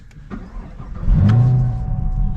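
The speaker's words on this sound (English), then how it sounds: "Firing up this muscle car, boy does that sound good" A 2023 Chevrolet Camaro ZL1 engine cranks briefly and catches, rising into a deep, loud rumble that settles into a steady idle.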